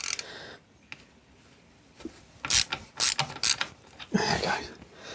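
A wrench ratchets and clicks as it loosens the two gearbox nuts under a Scott Flying Squirrel motorcycle, with bursts of close mechanical clatter that grow busier toward the end.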